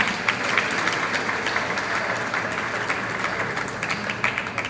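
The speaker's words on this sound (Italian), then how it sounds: "Facciamo un applauso ben fatto" Congregation in a church applauding together for a parishioner back after a long illness, a dense, even round of clapping that holds steady throughout.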